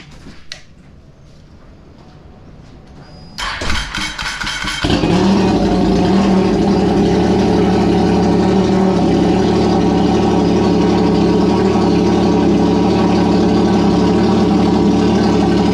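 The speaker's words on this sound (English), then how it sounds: "let the engine run for a minute, and then we'll check the dipstick." A 2011 Ski-Doo 1200 TNT snowmobile engine cranks and fires, then settles into a steady, loud, close idle that runs on unbroken with a deep droning hum.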